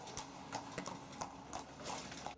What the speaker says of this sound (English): that's room enough for the horse carts that carry tourists back and forth